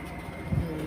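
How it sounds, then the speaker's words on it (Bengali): A short, low, soft coo from an exotic dove kept in a rooftop garden in the morning, a single brief call over a steady faint background hum. "এই যে এখানে ঘুঘু পাখি আছে, বিদেশি ঘুঘু পাখি।"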